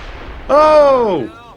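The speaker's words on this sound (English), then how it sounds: "And the guy next to it was caught in the explosion." A single sharp blast with a ringing, descending tonal tail from rapid fire in XCOM 2, loud and close, fading over about a second with no talk over it.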